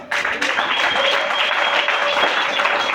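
A church congregation clapping together, a loud, dense wash of hands starting abruptly and holding steady, with a faint voice or tone faintly threaded beneath.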